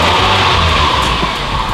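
Engine of a 2008 Mitsubishi Lancer GTS held at elevated revs in a repair shop: a loud, dense, continuous drone with steady low rumble, close up, with no pauses across the short stretch.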